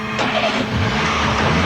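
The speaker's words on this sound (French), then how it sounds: "Eh merde, Mario s'est encore tiré avec ma voiture." A car engine revs and pulls away in a short, loud burst, driving off with a smooth rising hum and no voices over it.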